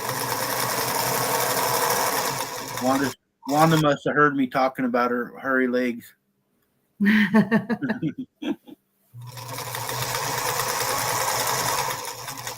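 A sewing machine runs steadily as it stitches layer-cake quilt pieces, a close loud whirring hum, then stops while someone talks, and starts up again afterward.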